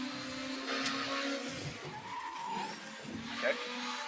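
BMW race cars skidding in a racing video game, sustained tyre squeal and engine whine over a steady hum, with a sharper screech near the end, with a voice talking briefly.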